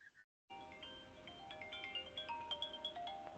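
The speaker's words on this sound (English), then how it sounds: "that was my phone" A phone ringtone plays a bright, chiming electronic melody of rising and falling notes for about three seconds, clear and fairly close, after a brief pause in a quiet room with no one talking.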